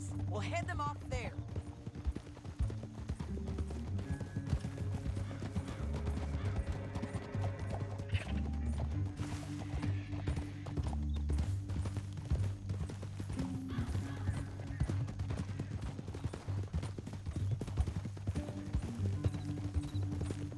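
Horses' hooves clip-clop steadily through a Red Dead Redemption 2 scene, with a horse whinnying now and then, all under continuous game music and dialogue at moderate level.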